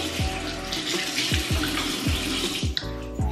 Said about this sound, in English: So, I need to wash my hands. I got lotion on my hands.